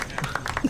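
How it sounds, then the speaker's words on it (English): A few soft, sparse claps in a slow, uneven rhythm, a quiet polite golf clap. "Love the golf clap."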